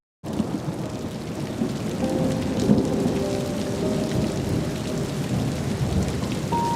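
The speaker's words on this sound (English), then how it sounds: "it is indeed a rainy Tuesday morning here on the island with Tropical Storm Raphael moving across the country" Steady heavy rain pours during Tropical Storm Raphael on an island morning, with low rumbling thunder rolling beneath it throughout.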